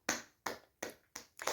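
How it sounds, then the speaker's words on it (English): Hand clapping demonstrated in a Luo cultural explanation: five sharp, close claps in a steady rhythm about a third of a second apart, alone with no talk. "You just clap like this."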